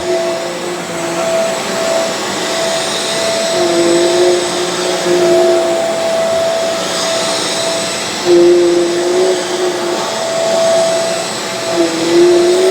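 A Shark Carpet Xpert carpet cleaner runs in dry-only suction mode, a loud steady close motor roar with a shifting whine and no talking.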